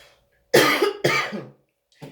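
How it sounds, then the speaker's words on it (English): Two harsh coughs in quick succession from a single nearby person, followed by a short, quieter throat sound after a pause. "Hold on, I have to cough."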